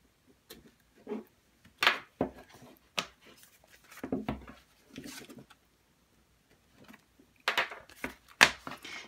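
Scissors or blade cutting open the plastic packaging of a sticker book: scattered short crinkly snips and rustles separated by quiet gaps, close and fairly soft, no talking.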